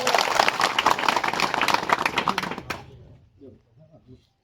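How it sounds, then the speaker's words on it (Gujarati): Dense, loud applause from a crowd at an Aam Aadmi Party village public meeting welcomes a speaker, then fades out after almost three seconds, leaving a few faint voices. "જોરદાર તાળીઓથી આપણે સ્વાગત કરીશું"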